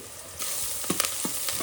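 Puffed rice (mandakki) roasts in a pan with masala, giving a steady close sizzle punctuated by a few scraping stirs, with no talk.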